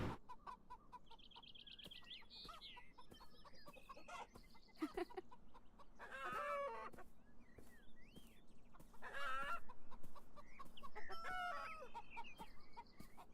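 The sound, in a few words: chickens clucking in the video game Beyond Eyes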